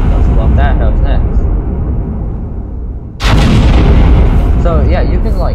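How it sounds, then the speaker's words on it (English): Bazooka blast in a Minecraft gun mod as a house is blown up: game ambience with speech, then a sudden loud explosion burst that stays dense and roaring to the end. "Let's blow up that church. Let's blow up that house next."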